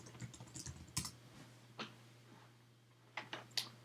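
Sparse keystrokes on a computer keyboard, a few quiet clicks and taps spaced irregularly over a few seconds, with a steady low hum underneath.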